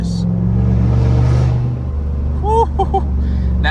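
Chevrolet Silverado with a 6.2 V8 and cat-back straight pipe exhaust rumbling loudly up close, a deep throaty drone that swells and then settles, with a short vocal outburst over it.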